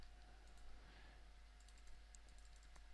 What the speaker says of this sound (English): Then you have to type in the URL from your server.